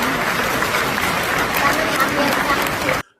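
Audience applause, a dense, steady patter of many hands clapping for about three seconds before cutting off abruptly.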